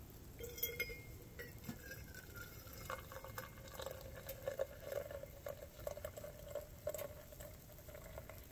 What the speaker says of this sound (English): It's the coffee pour time.